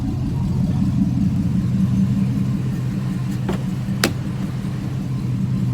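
A Chevrolet Trailblazer SS engine idles steadily, a low even rumble heard close from inside the truck, with a couple of brief sharp clicks near the end.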